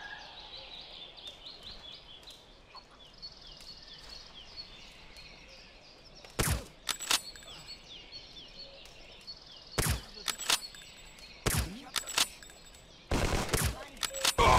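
Sharp gunshots from the World War II tactical shooter Hidden & Dangerous 2 crack out in uneven bursts, a pair and then several quick clustered shots, loud and close over a steady outdoor ambience of birdsong and insects.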